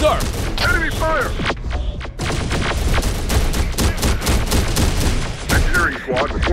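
Dense, rapid gunfire from the battlefield video game Terminator: Dark Fate - Defiance, with loud volleys and bursts that run almost without a break, mixed with whistling and radio-style voices in the game.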